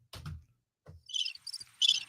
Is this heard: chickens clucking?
no